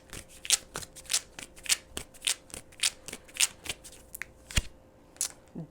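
Deck of oracle cards being shuffled by hand, a quick irregular series of crisp riffling bursts up close, with short pauses between the shuffles and no talk.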